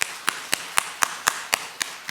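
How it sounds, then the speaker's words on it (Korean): Church congregation clapping in welcome, sharp claps in a steady even rhythm, about one every quarter second, moderately loud and without talk. "감사한 마음으로 우리가 큰 환영의 박수 하겠습니다."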